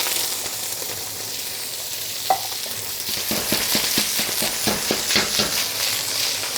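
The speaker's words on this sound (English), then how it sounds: "I'm gonna start by frying the thick, hard parts of the vegetable first." Loud hissing sizzle of the thick, hard parts of yu choy hitting hot oil, followed by a rhythmic series of scraping stirs in the pan.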